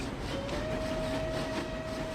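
A train in a zombie-themed railway video game, a steady low rumble of rolling wagons with a faint sustained whine, even and continuous throughout the short stretch.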